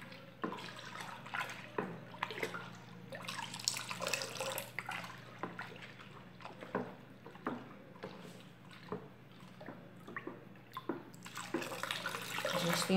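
Homemade coconut liquid soap being stirred in a container: close, wet sloshing and swirling with irregular stroke-by-stroke splashes over a steady low hum, and no voices.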